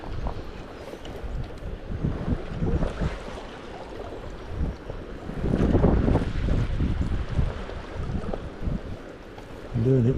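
Headwind gusts buffet the microphone while fly fishing for salmon from a boat by the water, rumbling in uneven surges that swell louder midway, with a voice briefly heard at the end.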